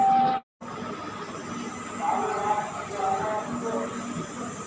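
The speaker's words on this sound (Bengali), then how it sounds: "আমাদের ট্রেন এসে দাঁড়িয়েছে নিউ ফারাক্কা জংশন স্টেশনের 3 নম্বর প্ল্যাটফর্মে" Intercity Express 13011, an AC train, standing at platform 3 of New Farakka Junction. A steady rail hum and hiss fills the background, with a short dropout near the start and murmuring voices underneath.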